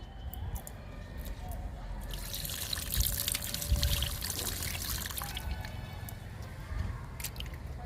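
Liquid fertilizer pours from close by onto a potted plant in a garden, a soft steady trickle with light splashing and dripping, no talking, and faint outdoor background noise underneath.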